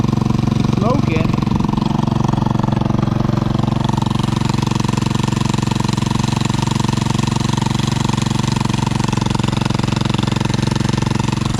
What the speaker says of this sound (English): Definitely have an exhaust leak.